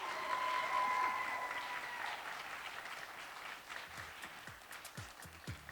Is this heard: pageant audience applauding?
yes